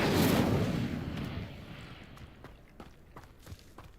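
An Incendio fire spell cast in Hogwarts Legacy: a loud roaring whoosh of flame bursts out up close and fades over a couple of seconds, followed by scattered faint thuds and crackles.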